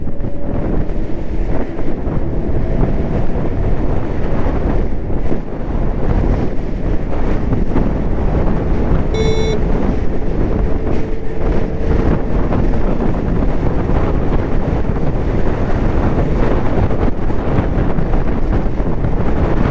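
An Ola S1 Pro electric scooter rides at top speed in normal mode, around 80 km/h, mostly heard as heavy, constant wind rush over the microphone with a faint motor whine beneath.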